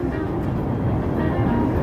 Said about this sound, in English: We got the L train going by here.